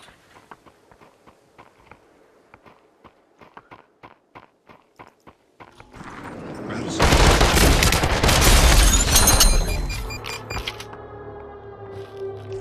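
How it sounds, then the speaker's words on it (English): Frag grenade explosion and gunfire in the VR battle royale game Population: One: a run of sharp, evenly spaced footstep-like taps gives way to a loud roaring blast that swells, then decays into a lingering ringing tail. "I threw a frag"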